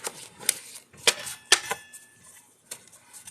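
Uno cards are cut and shuffled by hand. Several sharp riffles and snaps come in uneven bursts, close to the listener, with quiet gaps between them and no talking.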